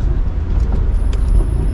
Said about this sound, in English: the shifts in this exhaust, or the shifts in this car are very, very quick.